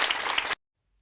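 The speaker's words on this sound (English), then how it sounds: "Can we all give her a big round of applause?" A short burst of audience applause, close and fairly loud dense clapping that cuts off abruptly into silence about halfway through.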